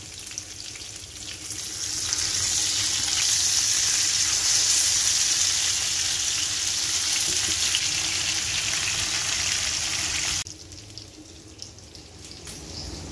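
Sardines sizzle and spit in hot oil in a pan, a loud steady frying hiss that swells after a couple of seconds and holds, then drops back to a quieter crackle near the end.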